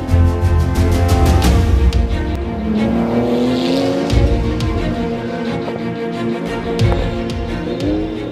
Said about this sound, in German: Dieses Knallen an der Auspuffanlage, diesen Turbo-Boost, wenn du es einfach hörst und spürst.